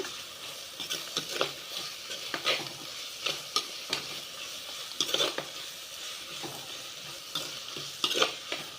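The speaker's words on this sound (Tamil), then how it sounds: "மறுபடியும் நல்லா கலந்து விடுங்க" Onions with ginger garlic paste and curry leaves being stirred in a pan for tomato egg gravy, a steady close sizzle broken by repeated scraping stirs of the spoon, with no one talking.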